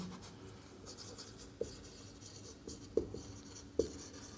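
A quadratic equation is written by hand, with soft scratching pen or chalk strokes and three sharper taps spaced about a second apart, close and fairly quiet, with no voice.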